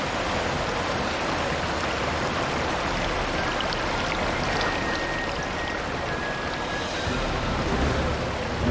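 Water from the Armada boat ride in the theme park game Planet Coaster: a steady, even wash of rushing, splashing water like a stream or light surf, constant and fairly loud throughout with no talk.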